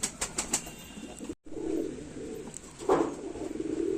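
A teddy pigeon coos close by in soft, repeated throaty calls, with a brief flutter and a short pause partway through, heard alone without voices.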